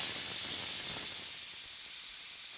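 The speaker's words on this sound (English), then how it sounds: "We can do a quick release here of the pressure." A pressure cooker vents through a quick release, a loud, close rush of hissing steam that starts strong and gradually eases off.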